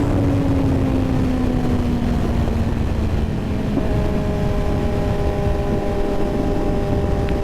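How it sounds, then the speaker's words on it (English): A 2024 Kawasaki Z900 motorcycle accelerates hard under heavy wind roar. Its engine tone slides lower, then jumps up at a gear shift and keeps pulling strongly. "this thing just accelerates so hard once you get up there in the RPMs"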